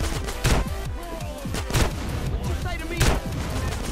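Video game combat in GTA San Andreas with the Inferno mod: repeated booming explosions and bursts of gunfire, dense and loud, with heavy blasts recurring about every second or so.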